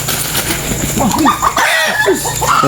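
A chicken being caught for slaughter on a rural farm. It gives a run of agitated clucks and squawks over a steady background hum, with wing flapping and voices nearby.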